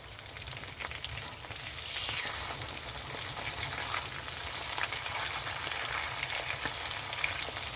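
Hilsa fish pieces, rubbed with salt and turmeric, fry in hot oil with a steady, fairly loud sizzle that swells briefly as the pieces are flipped, with no talking.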